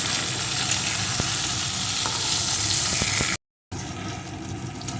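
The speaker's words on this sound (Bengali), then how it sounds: "এইভাবে আমি পটল আলুটা একটু ভেজে নেব" Potatoes and pointed gourd frying in oil in a pan, a steady close sizzle running throughout with a brief dropout near the end and no talk.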